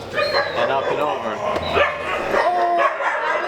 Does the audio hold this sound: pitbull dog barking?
yes